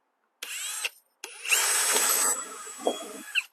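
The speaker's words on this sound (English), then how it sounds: "That gives me a chance to drill some of these holes." Power drill boring screw holes into hardie board, two whirring bursts, a short one and then a longer, louder run with pitch dips as the bit bites, close by with no talking.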